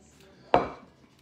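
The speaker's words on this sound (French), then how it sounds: "on prend une casserole, comme ceci" A saucepan is picked up and set down, giving one sharp metallic knock followed by a short ringing decay, close and alone in a quiet kitchen.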